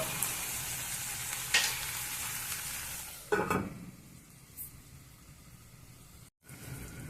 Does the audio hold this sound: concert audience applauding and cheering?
no